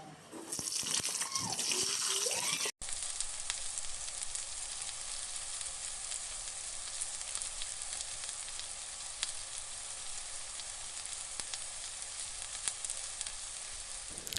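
Potatoes frying in oil in a wok for a pointed gourd and prawn dish give a loud, steady sizzle, with stirring scrapes early on, then a brief cut and a continuous even hiss.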